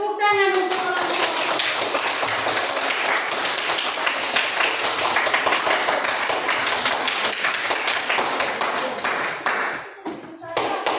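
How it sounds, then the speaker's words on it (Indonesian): A classroom group claps for a presenting group during a teacher-training session, with steady dense clapping throughout, loud and close, and voices talking briefly at the start and near the end. "tepuk tangan untuk kelompok"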